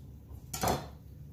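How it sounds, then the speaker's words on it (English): A knife blade scrapes around an avocado pit in one brief, bright scrape near the middle, set against quiet kitchen background noise. "we're going to cut right under the pit. Just let the knife roll right around it."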